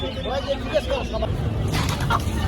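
Chickens cluck in short bursts at the Hemayetpur bird market, with a busy crowd murmur and traffic noise behind them and people talking nearby.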